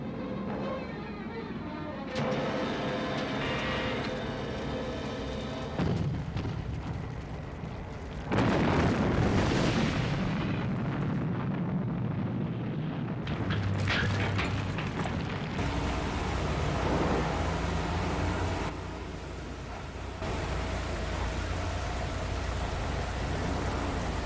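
Rumbling explosions and bursts of shooting roll out in a long, dense wash of noise with sudden loud onsets and crackling debris, from a Thunderbirds rescue in New York City with Virgil firing.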